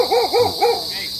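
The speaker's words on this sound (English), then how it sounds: "Security dog here." A security dog at a museum in Clark, Pampanga, Philippines lets out three quick, loud barks close by, each with a hollow, hooting tone.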